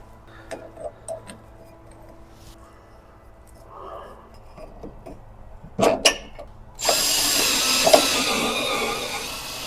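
A power tool runs in a loud continuous burst, tightening body bushing bolts on a Toyota FJ40 Land Cruiser fitted with a Daystar body bushing kit, after quieter clicks and a brief pair of bursts.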